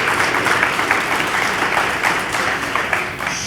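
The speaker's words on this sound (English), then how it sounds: "let's give Mrs. Hughes a round of applause" A crowd applauds Mrs. Hughes at an 8th grade promotion ceremony, dense continuous clapping from many hands at an even level throughout, with no speech over it.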